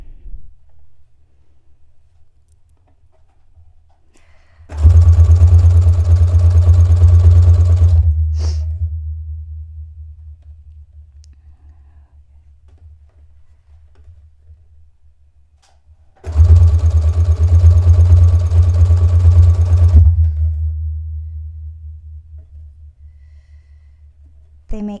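Domestic sewing machine stitching a rolled hem along a fabric edge, two long loud whirring runs of about three to four seconds each, separated by quiet pauses.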